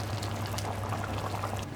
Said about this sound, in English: so now we're supposed to add some water. Have some boiling water here.